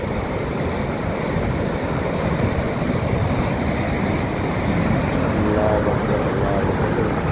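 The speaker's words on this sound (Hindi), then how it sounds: "ये देखें ये सैलाब का पानी बहुत ज़्यादा इधर आ रहा है।" A steady, heavy roar of rushing flood water fills the scene continuously, broadband and turbulent, with no pauses.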